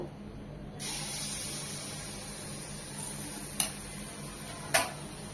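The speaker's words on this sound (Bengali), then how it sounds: "কড়াইয়ে সয়াবিন তেল দিয়েছি পর্যাপ্ত পরিমাণে। তেলটা গরম হয়ে এসেছে। এখন এই পর্যায়ে আমরা কাঁঠালের পিঠাগুলো একটা একটা করে ছাড়বো।" Jackfruit pitha dough drops into hot soybean oil in a wok, setting off a sudden, steady hiss of frying that holds throughout, broken by two sharp clicks near the end, with no voices.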